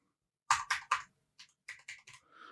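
Keys clack on a computer keyboard in a short burst, three quick loud strokes, a pause, then a softer run of taps, close and clear in a quiet room.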